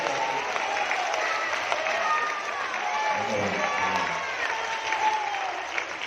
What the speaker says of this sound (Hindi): दोनों हाथ आसमान में उठाकर तालियों की गड़गड़ाहट करके बताएं